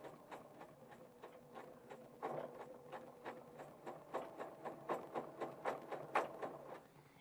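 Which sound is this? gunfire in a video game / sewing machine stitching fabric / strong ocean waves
sewing machine stitching fabric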